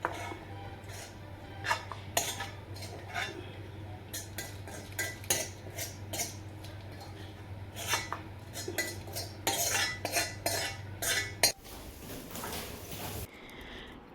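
Cooked vegetable curry is scooped out of an iron wok, with repeated metal spoon scrapes and clinks against the pan at an uneven pace, ending in a clatter and a shift to quieter room noise.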